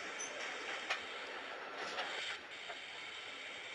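A KTM tram rolls and brakes in a tram simulator game on the Krasnolutsk map, a steady rumbling drone of rails and motor with a few squealing brake and wheel accents, fairly quiet, no talking.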